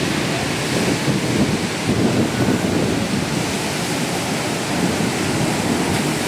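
High, rough sea surf crashes and churns continuously at Ganpatipule beach, a loud broadband roar of breaking waves with wind buffeting close to the microphone and surges that rise and fall throughout.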